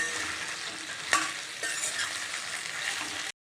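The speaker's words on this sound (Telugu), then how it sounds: "బెండకాయలు ఆల్మోస్ట్ ఫ్రై అయిపోయినాయి" Sliced okra frying in a pan for a yogurt okra curry, a steady close hiss of sizzling oil with a sharp utensil clink near the start and a brief scrape partway through, then it cuts off abruptly.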